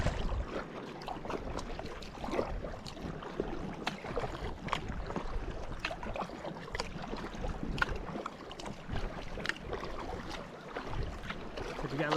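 A canoe is paddled across Upper Long Lake, the paddle dipping and splashing in soft, irregular strokes through faint wind and rustling water, with no clear talking.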